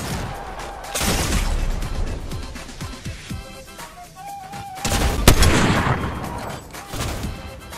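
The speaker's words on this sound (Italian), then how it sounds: "Da dov'è che mi stai sparando?" Rapid bursts of gunfire from a Fortnite match, loud and dense, with sharp impacts and a heavy crack near the end.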